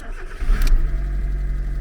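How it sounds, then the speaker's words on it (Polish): A car engine turns over and catches, rising briefly before settling into a steady low idle close by, with no one speaking. "odpalę już auto"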